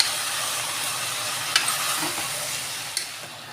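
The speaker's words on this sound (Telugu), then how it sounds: "ఇప్పుడు నేను కట్ చేసి పెట్టుకున్న ఈ దొండకాయలు యాడ్ చేస్తున్నాను" Chopped ivy gourd (dondakaya) sizzles steadily in hot oil in a pan while being stirred, with a few sharp utensil scrapes and clicks against the pan over the continuous frying hiss.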